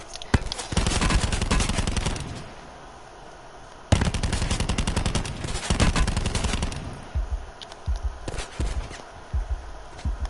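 Rapid automatic gunfire in Black Ops 4, arriving as long sustained bursts broken by a short pause, then trailing into scattered single shots and footsteps, with only faint talk.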